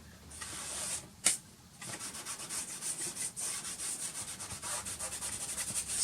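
Pastel is rubbed and smoothed across paper in a quick, steady back-and-forth scraping rhythm, close and fairly quiet, with no talk.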